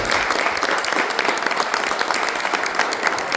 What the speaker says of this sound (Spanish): Queremos darle un aplauso a Eberhard por este trabajo.